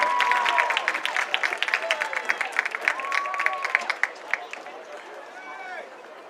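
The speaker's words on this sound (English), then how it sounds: "let's give them another round of applause" A high school crowd applauds seniors and their parents, clapping steadily, dense and close, the applause gradually thinning and fading toward the end.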